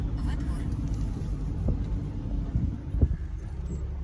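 A car drives along a road past rural land plots in Crimea, its steady low engine and tyre rumble continuous throughout, with a small bump or knock near the end.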